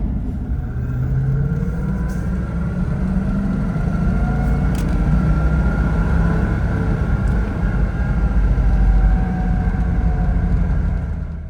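Range Rover Classic driving on the road, its engine a steady, continuous rumble with road and wind noise throughout, loud and close as if heard from inside the cabin, with no talking.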